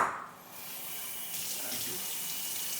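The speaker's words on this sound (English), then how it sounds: "I'm gonna rinse this out because I forgot I threw the cabbage in there." Tap water runs steadily into a kitchen sink as a bowl is rinsed out, a continuous close splashing rush that swells louder about halfway through.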